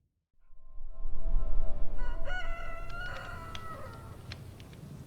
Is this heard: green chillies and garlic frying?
no